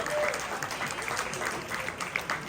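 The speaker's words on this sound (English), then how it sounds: "How about a huge round of applause for all of the hard-working artists on staff and in our incredible vendor hall." An audience at a pony-themed cider festival charity auction breaks into applause for the staff artists and vendor hall, a dense, continuous round of clapping and crowd noise filling the room.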